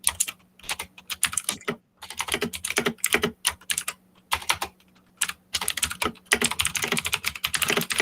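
Computer keyboard being typed on in short bursts of quick, crisp key clicks with brief pauses between, close and fairly quiet, as a password is entered while setting up an Active Directory lab user account.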